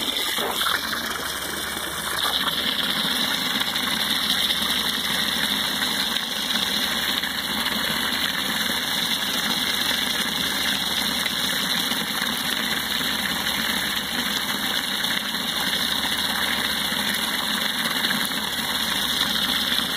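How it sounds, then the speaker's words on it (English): A diaphragm pump runs steadily while filling a fertilizer tank, a constant loud mechanical hum with rushing water, with no breaks through the whole span. "I cleaned up the diaphragm on the pump."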